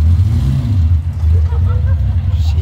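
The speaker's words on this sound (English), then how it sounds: "It's a boy racer car." A boy racer car pulls away with a loud, steady low engine rumble that rises slightly as it drives off, close by, with voices talking over it.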